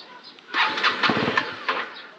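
A vehicle engine is cranked and sputters, failing to catch: a short burst of ragged mechanical turning and coughing close by, with voices mixed in.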